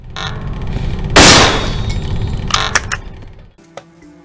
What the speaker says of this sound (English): most of all, I loved the sound of the shotgun,